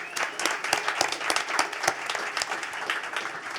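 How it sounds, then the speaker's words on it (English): An audience at a New Belgium brewery event claps in a steady burst of applause, dense and fairly loud throughout, with no talking over it. "Big round of applause for New Belgium for hosting us."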